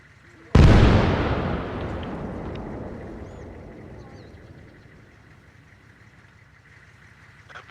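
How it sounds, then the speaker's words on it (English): An explosive charge detonates in a military video game at a construction site: one sudden loud boom that rolls off into a long, fading rumble over several seconds. "D4's placed. Get ready for the boom."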